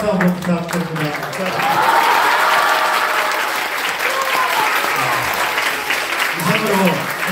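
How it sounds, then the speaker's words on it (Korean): Loud applause from a hall of Korean high school students at the end of a lecture, rising into a dense steady roar of clapping, while voices speak faintly over the start and end. "여러분들 큰 박수 한번 부탁드립니다."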